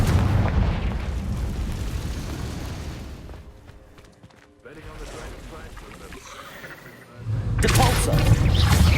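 Fire spell blasts in the Hogwarts Legacy video game boom loudly amid dense combat rumble, fading to a quieter lull before another heavy burst erupts near the end.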